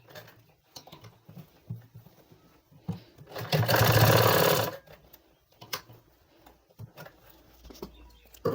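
A sewing machine stitches trouser fabric in one fast whirring burst of about a second, close and clear, set among quiet handling clicks and rustles of cloth.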